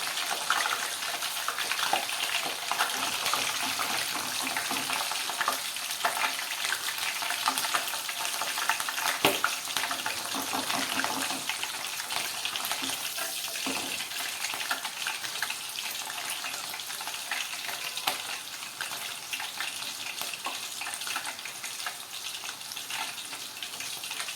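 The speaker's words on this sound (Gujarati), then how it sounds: "7 થી 8 લીલા મરચાંને સમારી લીધા છે. તેને પણ આપણે ફ્રાય કરી લઈએ." Seven or eight chopped green chillies fry in hot oil in a pan for a spiced puffed-rice and sev snack, giving a steady, dense sizzle with faint stirring scrapes throughout, no voices.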